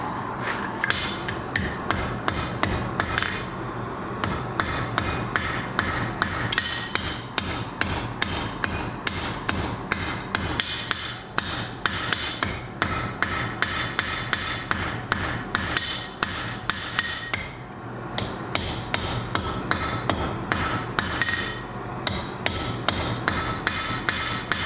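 Hammer peening metal while forging a Thor's hammer necklace: a steady, rapid run of close, loud ringing strikes, continuing almost without pause, with only brief breaks in the rhythm.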